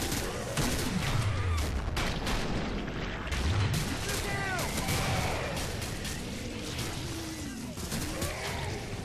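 Shooting in the video game Killing Floor, a busy barrage of gunfire and heavy booms mixed with explosive rumble and creature sounds, with a player talking excitedly over the action.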